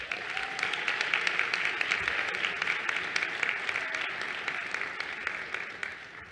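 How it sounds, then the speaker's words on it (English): A graduation crowd at a UConn commencement ceremony claps in a broad, sustained wave of applause, evenly dense and moderately distant for several seconds. "So please give yourselves a round of applause and bask in this moment."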